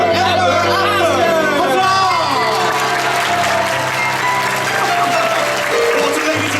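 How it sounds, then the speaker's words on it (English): A theatre crowd at Disneyland's Fantasy Faire Royal Theater applauds and cheers after a Tangled show, with sustained loud clapping and whoops under music and overlapping voices throughout. "Lots of ladies and one round of applause for Princess Rapunzel!"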